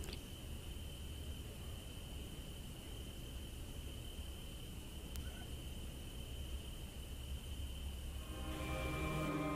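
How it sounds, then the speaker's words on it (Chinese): A thin, steady high-pitched whine like a buzzing mosquito runs as a sound effect in a short horror film, holding constant over faint background hiss, joined near the end by a slightly fuller tone. "觉得他那个画面只是蚊子响的音效，来让观众觉得说可能只是有蚊子"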